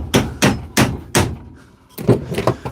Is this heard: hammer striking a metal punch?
yes